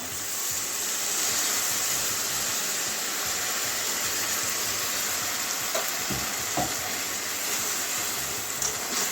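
Rinse water from a mixer jar poured into a hot pan, bursting into a loud continuous sizzle that holds steady, with a few faint clinks partway through and no talk.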